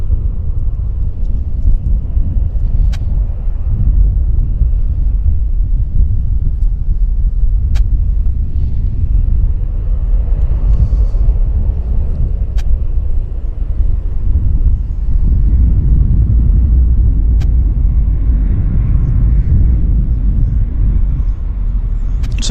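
A Q400 turboprop airliner at Vancouver airport makes a sustained low, heavy rumble for the whole stretch, mixed with wind buffeting on the microphone and no talking.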